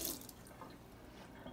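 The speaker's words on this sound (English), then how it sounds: "I'm going right to the sink. I'm gonna rinse it off with some water." Water running from a tap into a sink to rinse a marbleized print, a quiet, steady splash and patter that goes on throughout without voices.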